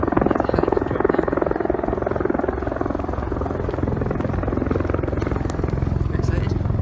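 A helicopter drones overhead with a rapid, pulsing rotor chop, steady and moderately loud throughout, with people talking faintly beneath it.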